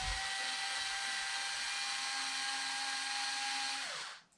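A Ryobi power tool whirs at a steady high-pitched whine for about four seconds, close and fairly loud, then spins down and stops.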